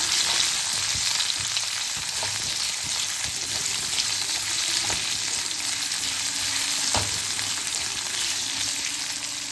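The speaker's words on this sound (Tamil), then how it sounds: "உருளைக்கிழங்கு ஓரளவு ஃப்ரை ஆகிடுச்சு." Potatoes and curry leaves fry in oil in a pan, a continuous loud close sizzle with occasional stirring scrapes running throughout.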